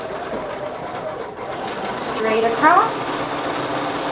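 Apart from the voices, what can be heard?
sewing machine stitching a straight quilt seam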